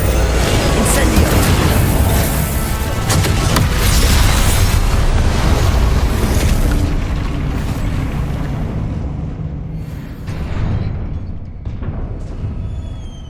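Confringo blasting spell explosions in the video game Hogwarts Legacy, loud booming blasts with rumbling, crackling tails that roll on continuously and gradually thin out toward the end.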